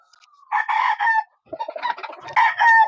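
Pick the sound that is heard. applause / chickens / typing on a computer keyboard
chickens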